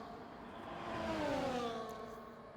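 Distant Formula 1 car engines in a racing video game at Jeddah hum and whine as they pass, a smooth rising and falling drone that swells in the middle and then fades slightly.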